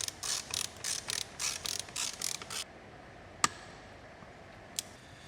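A ratchet wrench tightens the front wheel shaft nut of a CFLite Dual 250 motorcycle, making quick rhythmic clicking strokes for a few seconds that then stop, followed by two faint metallic ticks.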